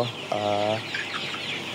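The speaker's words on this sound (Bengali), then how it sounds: "আর এখানে 750 মুরগি আছে, 700 মুরগির মতো এখানে আছে।" Tiger chickens raised for meat on a poultry farm give a short, close cluck, then lighter clucking and chatter follow in the flock's background.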